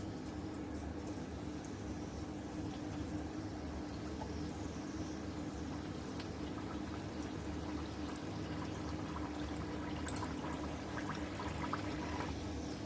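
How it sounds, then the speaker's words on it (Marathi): Malvani vada, the fluffy homemade-flour fritter, dropped into hot oil and frying, a steady close sizzle and bubbling hiss that holds evenly throughout with no talking. "आता तेल तापले, आपण याच्यात वडा सोडून घेऊया."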